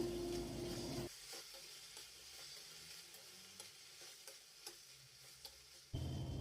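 Tomatoes fry in a pan for a cabbage chutney, giving a soft sizzle with occasional stirring scrapes; the frying is louder at the start and end and fainter through the middle.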